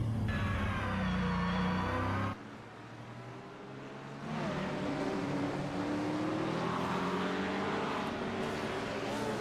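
A GT3 race car engine in a racing video game screams at full speed toward a sharp, heavy-braking right-hand turn one on the Indianapolis road course, with a sustained high-pitched whine, a sudden drop in pitch and gear shifts as it climbs back up.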